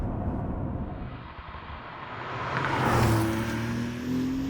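A Porsche 911 GTS (992) with a 3-litre twin-turbo flat-six, 7-speed manual and rear-wheel drive cruises with a steady road and engine rumble, rising to a moderate surge and tone shift midway, heard from inside without talk.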